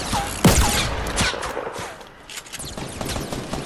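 Gunfire rattles in Fortnite, a loud close shot followed by bursts of rapid automatic fire, with voices talking over the action.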